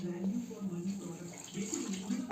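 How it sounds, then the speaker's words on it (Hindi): A bowl of cold milk poured into a pan on a gas stove, a soft continuous liquid pour with low hum beneath, heard close and steady throughout. "इसमें 1 कटोरी दूध डाल रही हूँ।"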